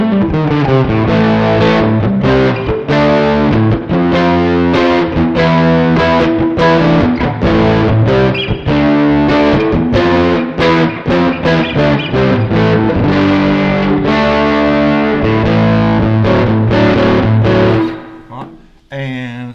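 Heavily distorted electric guitar through a JOYO amp modeler on a thick Marshall-style tone plays saturated chords and riffs continuously and loudly, then stops and rings out at the end.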